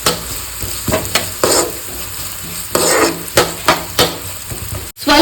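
Chopped onions frying in hot oil for pav bhaji, a loud, close sizzle punctuated by repeated spatula strokes and scrapes against the pan in uneven bursts, with no one speaking.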